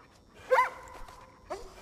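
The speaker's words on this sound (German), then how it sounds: "Alter, wie viele Hunde sind denn hier gefangen?" A few dogs barking in the Far Cry New Dawn video game, two short yelping barks about a second apart, fairly faint and distant, with no speech over them.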